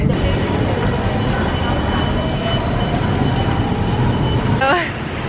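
A Bangkok metro train rides along with a steady, loud rumble and hiss of wheels on rail heard from inside the car. A brief wheel squeal comes near the end as the noise drops slightly.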